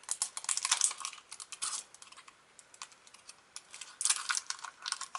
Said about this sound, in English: Peel one off.